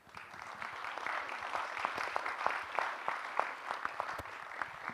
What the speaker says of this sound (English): Let's give another huge round of applause for the amazing lady and the gentleman for the panel session.